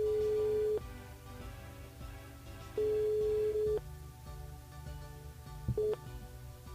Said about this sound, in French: on appelle Chloé du côté de Tampon.